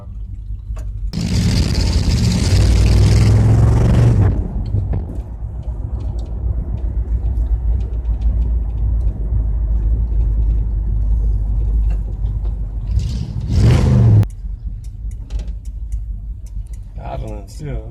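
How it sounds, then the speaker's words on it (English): A 1977 Ford F100 Custom barn find, long unrun, idles low and skips, its engine rumbling steadily up close with louder revving bursts at the start and near the end. "Idling still a little bit low."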